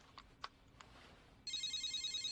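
A cell phone ringing in an anime scene, a steady electronic ringtone that starts abruptly after a few faint clicks and continues loud and pulsing.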